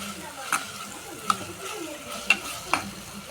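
Ginger garlic paste with black pepper and cumin frying in a pan for a crab dish, with soft sizzling under a few sharp scrapes of stirring at irregular intervals.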